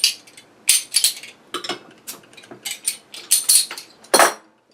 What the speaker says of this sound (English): let's get the cap off this bad boy and see what it's all about